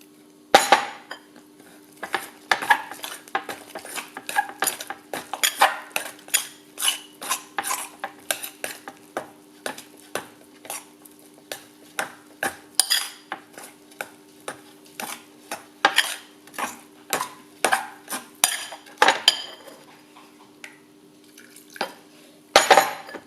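A knife stirring white bread dough in a bowl, making repeated close clinks and scrapes against the bowl at an irregular working rhythm, with no speech.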